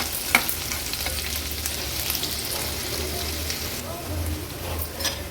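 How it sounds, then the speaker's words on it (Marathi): Garlic cloves and a chopped medium onion frying in oil in a pan for an Agri Koli fish dish, a steady close sizzle with a few faint clinks. "लसूण आणि कांदा तेलावर छान शिजवून घेऊया"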